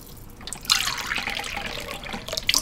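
Cups of water poured into a cooking pot for tinolang manok, a soft splashing and trickling stream that starts abruptly and runs steadily, fairly quiet and close.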